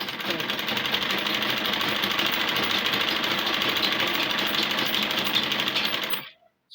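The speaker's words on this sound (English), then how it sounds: "Then I'll sew it down to where the side pockets" A sewing machine stitches fabric for an A-line ruffle gown with a steady, fast mechanical whir that runs without a break for about six seconds and then stops abruptly.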